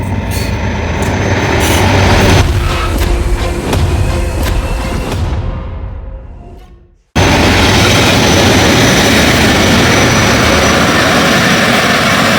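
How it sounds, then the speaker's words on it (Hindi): The Mehran Express passenger train rushes through Jhampir station in Pakistan, a loud roaring passage with rattling wagons and wheel noise that fades out, then after a brief gap a second loud continuous rumble of train sound follows. "तो ये मेहरान आ चुकी है जो कराची से अप है"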